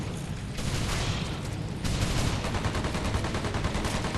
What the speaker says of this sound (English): I'm going to use this gun here in a second.